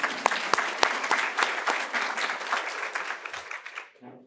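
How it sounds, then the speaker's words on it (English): An audience applauds at a public library talk in Chicago, with some sharp individual claps standing out early and a dense patter that thins and fades out before the end. "you can clap for that one"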